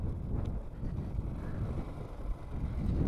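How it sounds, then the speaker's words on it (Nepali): Strong wind blowing through a hill village in Sindhupalchok's Helambu area, a low, rumbling buffet that swells and eases across the clip, with no talking. "हावा चाहिँ बेसरी चलिरहेछ अहिले चाहिँ, हावा चाहिँ मस्त चलिरहेछ"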